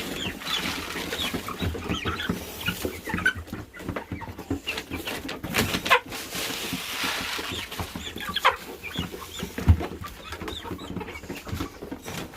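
Chickens cluck steadily at a morning feeding, a dense chorus of overlapping clucks and soft calls with one sharper squawk near the end, with no talking.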